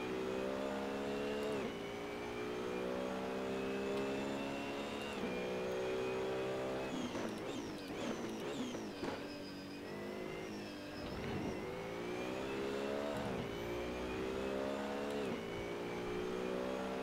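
A McLaren race car's engine in a racing video game set at Imola rises and falls through repeated revving gear changes, a steady whining drone across the whole stretch with no talk.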